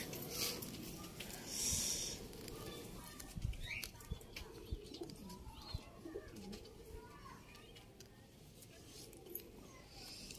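Male Face of Beauty pigeon cooing in a loft, soft low coos and a flutter of wings mixed with other birds and someone talking nearby.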